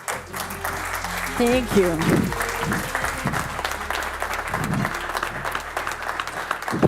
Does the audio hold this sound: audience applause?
yes